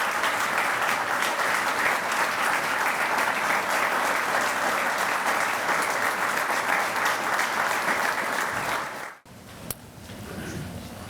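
A large audience applauds steadily for about nine seconds to welcome County Executive James J. Tedesco III to his 2024 State of the County Address, then the clapping cuts off into quieter room noise.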